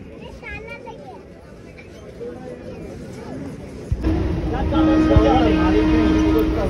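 A loud train rumbles at a busy platform. Voices chatter throughout and a steady horn-like tone sounds near the end.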